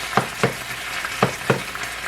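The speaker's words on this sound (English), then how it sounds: "So I'm going to let it simmer for a few minutes." Taco filling cooks in a pan with a low constant sizzle, and four distinct stirring scrapes come in two pairs at an even pace, close up and with no talk.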